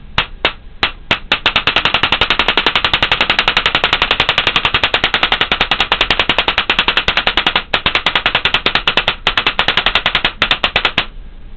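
A Spyder VS1 paintball marker firing in semi-auto: a rapid, loud string of sharp close pops, evenly spaced and nearly continuous, with a few slower shots at the start and end.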